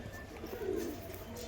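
A pigeon gives a single soft, low coo, faint and brief, against a quiet background murmur.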